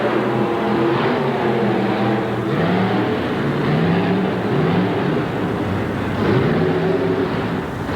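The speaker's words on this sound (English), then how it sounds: "Monster truck race." Monster trucks rev and race in a 1988 arena event, engines producing a loud, continuous roar with rising and falling pitch sweeps and a steady low rumble throughout.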